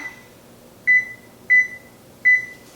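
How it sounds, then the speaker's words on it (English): An oven timer gives three short, clear electronic beeps at an even pace, close and alone, as it is set for baking cheesecake squares. "Set the timer."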